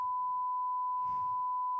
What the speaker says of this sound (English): That was supposed to be a censored beep